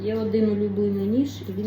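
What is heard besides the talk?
No distinct noise like a dog, phone or traffic.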